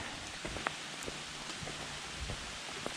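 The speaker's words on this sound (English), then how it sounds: "It's raining now." Steady rain falls on a hiker partway along the West Highland Way in Scotland under overcast skies, a dense continuous hiss dotted with close individual drops tapping a surface.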